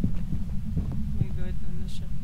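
During a Phasmophobia ghost hunt, a steady low heartbeat throbs in quick repeated thumps under a constant hum, with faint tonal sounds drifting above it.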